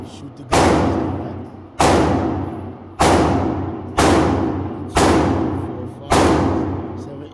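Six loud gunshots fired at an outdoor shooting range, evenly spaced about a second apart, each a sharp close blast with a long ringing decay.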